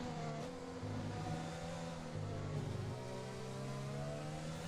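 Open-wheel race car engines from the F1 2020 video game during a Belgian Grand Prix league race at Spa, a steady high-pitched whine with shifting revs and gear changes, loud and continuous without any talk.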